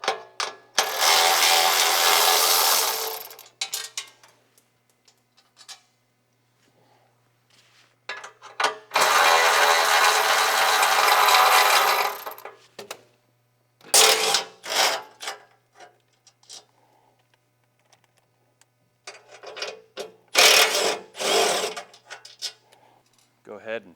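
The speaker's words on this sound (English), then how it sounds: "So we'll go ahead and we'll just unbolt the seat." A ratchet wrench unbolts the seat of a Tilmor 520 tractor, giving four close bursts of rapid clicking and rasping, each a few seconds long, separated by quiet pauses.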